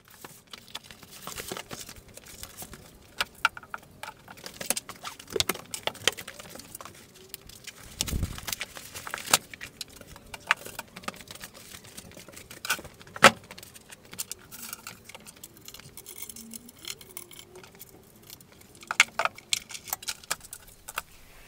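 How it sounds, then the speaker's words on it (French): A Creality Falcon 2 40-watt laser cutter is unpacked and assembled, with sparse clicks, taps, light rattles and scattered knocks of parts being handled and screwed together in a quiet room, without talk. "on la prend, on la sort du carton, on la pose, on visse les pieds"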